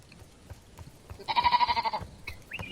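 A sheep on a farm gives one clear, pulsing bleat lasting under a second while being herded into a pen, heard over faint rustling and scattered clicks, with a brief higher call just after.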